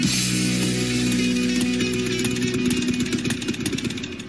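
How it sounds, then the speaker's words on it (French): Several motorcycle engines rumble and idle nearby near Verbier, in a continuous throaty drone, with occasional revs rising over the steady growl. "les moteurs continuent de ronronner ici du côté de Verbier"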